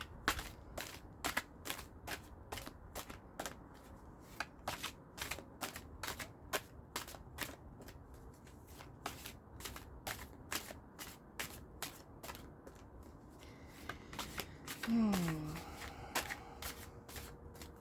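Tarot cards are shuffled in quick, repeated riffling bursts, soft and close, with brief pauses between rounds and a faint voice near the end.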